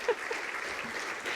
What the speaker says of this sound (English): You can clap for that if you'd like.